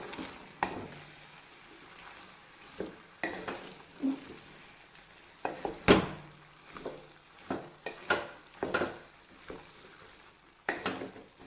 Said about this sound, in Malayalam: എന്നിട്ട് നമുക്കിതൊന്ന് ഇളക്കണം.